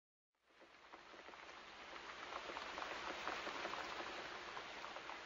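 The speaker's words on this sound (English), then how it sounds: "Then it began to rain. It rained a lot, and the street gutters were full of water." Steady rain falls on a surface, a dense hiss of drops that fades in after a brief silence and holds at a soft, even level with no voices.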